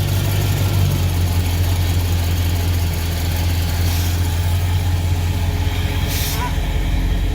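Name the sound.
1966 Pontiac Catalina wagon engine idling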